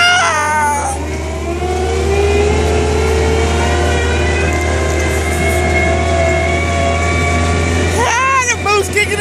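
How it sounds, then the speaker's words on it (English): Turbocharged tractor engine in a grudge race against a golf cart, revving loud and steady with a strong low drone and rising harmonic whine as the boost builds, while voices talk over it near the end. "The boost is kicking in."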